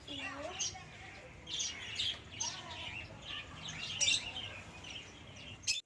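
Small finches chirp near a balcony garden with a large tree nearby: faint, scattered high tweets and short calls come in irregular bursts over soft outdoor background noise, somewhat distant.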